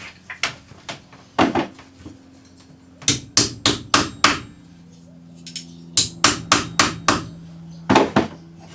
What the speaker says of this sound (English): Now hammer this flat with your rawhide hammer